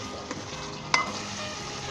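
Chicken korma sizzling in a pan as kewra is stirred in, a soft steady frying hiss with a single brief clink of the spoon against the pan near the middle.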